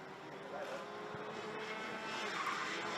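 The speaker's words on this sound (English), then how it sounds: "I can hear those wonderful 125cc Rotax Max Evo engines bolted to every single chassis" 125cc Rotax Max Evo kart engines race past at a Rotax MAX Euro Trophy circuit, a continuous buzzing, high-revving drone with a steady roar and slight rise in volume, heard from trackside at moderate distance.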